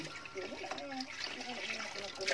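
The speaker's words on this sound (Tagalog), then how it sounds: "Lalagyan ko na ng tubig." Water is poured into a pot while pancit bato, a Bicol-style noodle dish, is cooked, giving a close trickling splash under a person talking.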